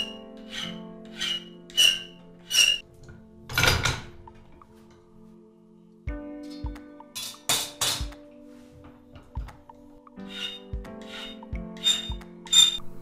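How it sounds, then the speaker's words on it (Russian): Hand file rasping across the end of a square metal blank for a door handle, checked with a try square: repeated scraping strokes up close, each a short gritty rub, with occasional knocks and clunks of the workpiece between passes. "Для начала с помощью угольника и напильника обработаем торец заготовки."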